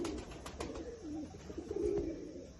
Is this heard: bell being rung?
no